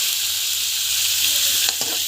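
Food sautés in a hot pan with a steady, fairly loud frying hiss, and a few quick stirring clicks come near the end.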